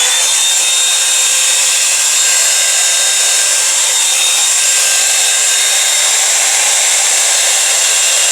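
A Revlon One Step hair dryer and volumiser runs on its cold setting, a loud, steady, unbroken airy whoosh with a faint high whine held throughout, no voices.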